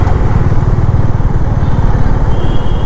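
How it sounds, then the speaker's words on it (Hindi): A motorcycle passing on the road during a long ride, its engine a loud, close, rapid low-pitched thumping that stays strong and steady for nearly three seconds. "बाइक जा रही है।"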